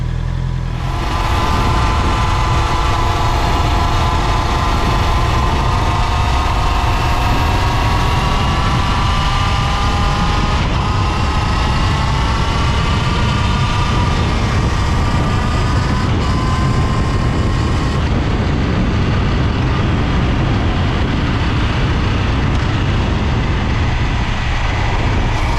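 A Honda CB650R motorcycle's inline-four engine accelerating on a track, loud and close, with a rising whine that climbs through the gears and briefly drops at each shift over steady wind roar.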